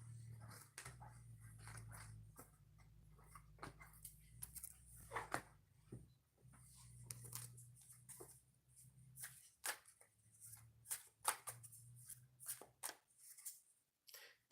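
Tarot cards being shuffled by hand, a run of crisp riffling and snapping bursts with quieter pauses between, close and fairly faint, with no talk.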